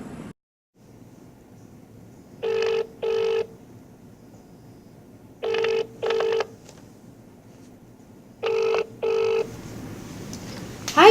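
A telephone plays three pairs of dial-tone bursts at regular intervals over a low steady hum, then a rising ring begins at the end, heard clearly with no voices.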